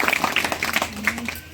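A congregation at a Hindi-language Christian prayer meeting claps loudly, with quick overlapping hand claps under voices and shouting that trail off within a second and a half.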